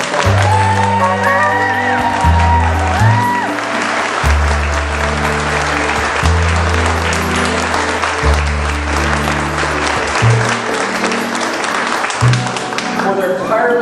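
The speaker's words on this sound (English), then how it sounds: "Please give them a round of applause." An audience applauds steadily at a bill-signing ceremony for autism insurance coverage in Colorado, with dense sustained clapping throughout, while a loud low sustained tone runs underneath.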